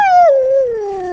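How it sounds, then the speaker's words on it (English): A single Alaskan Malamute howl, loud and close: one long, sustained tone that starts high and slides steadily lower, with no talking over it. "You're hearing those dogs"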